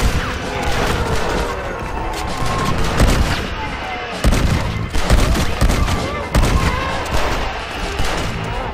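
Repeated shotgun blasts from a Red Dead Redemption multiplayer Undead Overrun match, loud and dense, with bursts coming every second or so amid continuous gunfire and clatter, and players talking over the action.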